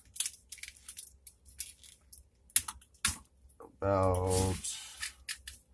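A side cutter snips through the negative wire of an EG Athens e-bike battery pack during a rebuild, giving a few short, sharp clicks amid handling noise, with someone talking over it.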